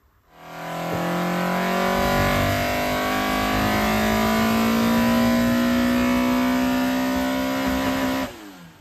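A modified Blacktop Ford Zetec engine with throttle bodies revs hard on a dyno, a loud close engine note sweeping steadily upward for several seconds before cutting off sharply.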